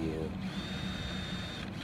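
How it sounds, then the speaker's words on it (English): A power drill bores a 4 mm pilot hole through a mushroom vent on a narrowboat, with the vent used as a drilling template. A steady, close motor whine runs throughout with slight changes in pitch. "just drilling a hole through one of the"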